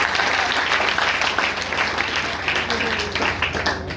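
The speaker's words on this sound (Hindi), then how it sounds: "वेरी गुड, जोरदार तालियां उसके लिए।" A class in a career-guidance session bursts into loud, sustained applause for a student, with many hands clapping densely and some voices mixed in.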